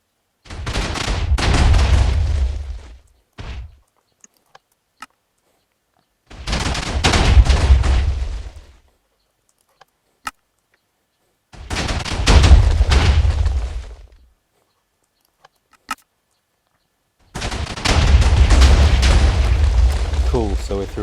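A Minecraft floating-barrel TNT cannon, a 240-barrel regen buster, fires through a stack of ten slab walls in four separate bursts of heavy booming explosions, each lasting about two to three seconds with short clicks between.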